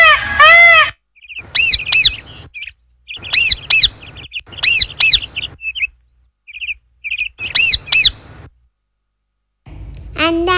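Bird chirps and calls sound during a kindergarten annual day performance, with bright, loud bursts of repeated tweets and squawks in clusters separated by short silences.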